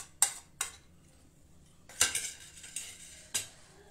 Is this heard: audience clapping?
no